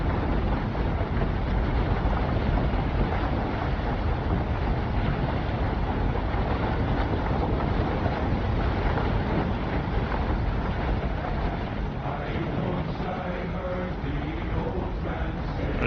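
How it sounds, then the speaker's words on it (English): A sailing ship in the video game Crosswind creaks along at night amid a dense, steady rush of wind and water, continuous and loud throughout. "Sailing out here late at night."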